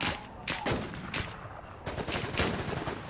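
Video game gunfire crackles in rapid bursts and repeated shots over about three seconds, loud and close, with faint voices underneath.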